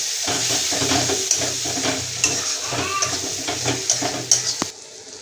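Ground spices (coriander, cumin and black pepper powder) sautéing in a pan for Bengali-style khichuri, a steady loud sizzle with rhythmic stirring scrapes close up, no talking.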